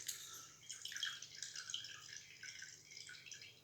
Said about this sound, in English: You grab your eggplant and squeeze it to get rid of excess water.